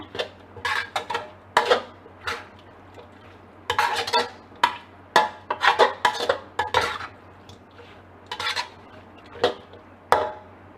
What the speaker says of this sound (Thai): ผัดให้เข้ากันนะ